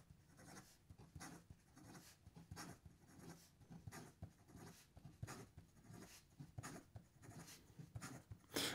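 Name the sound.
fountain pen writing fast on paper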